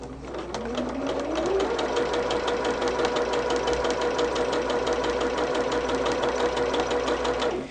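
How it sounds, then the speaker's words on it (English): A sewing machine stitches quilt blocks together for a Christmas tree quilt car block, a loud, steady, rapid mechanical whir and needle chatter running continuously from start to finish. "we're going to just start stitching them together the same way"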